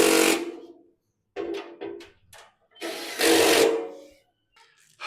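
A power driver tightens B screws on a Traeger Woodridge Pro pellet grill during assembly, in several short whirring bursts separated by pauses, close and fairly loud.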